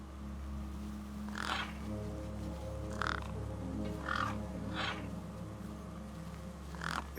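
Crows in the video game Beyond A Steel Sky caw over a corpse propped against a rock, with five or six harsh calls spaced every second or so above a steady low ambient drone.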